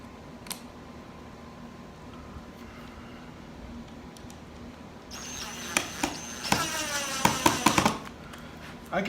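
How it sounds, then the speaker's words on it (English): Screws driven into the bridge of an electric guitar from a Boxter complete guitar kit, with faint handling at first, then a burst of dense, rapid rattling and sharp clicks from a power driver close by during final assembly. "put in a couple of screws"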